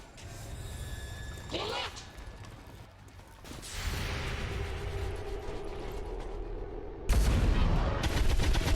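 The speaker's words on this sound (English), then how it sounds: "Nice pistol shot. All kinds of fire going." Gunfire in the video game XCOM 2, including a pistol shot, with scattered cracks, mechanical clatter and a loud burst near the end over a steady background rumble.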